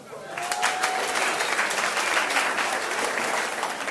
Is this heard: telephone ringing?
no